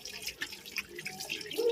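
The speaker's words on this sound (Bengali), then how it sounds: "এই যে গাছ থেকে পেঁপে গুলো পাইরা এই যে ধুয়ে নিলাম, পরিষ্কার করে নিলাম।" Water splashes and drips as freshly picked papayas are washed outdoors in a village, a soft steady trickle with a few brighter drips, close and fairly quiet, with no talking.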